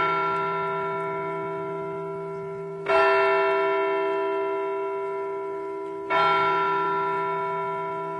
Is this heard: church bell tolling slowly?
yes